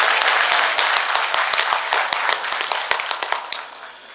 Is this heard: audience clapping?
yes